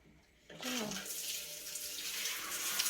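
A shower head in a bathroom turns on and runs water onto a potted plant, rising into a steady, close hiss after a brief quiet start, with no talking over it.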